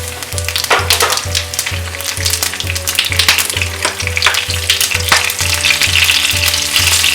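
Cumin, fennel and green chilli crackling in hot oil for Nepali goat meat curry, a loud steady sizzle over a rhythmic low throbbing music beat, with no talking.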